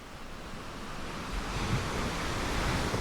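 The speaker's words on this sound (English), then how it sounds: "The Pacific Ocean is right there." Pacific Ocean surf by a desert coast, a steady broadband wash of waves with a swelling roar and some wind rumble, continuous and moderately loud with no voices.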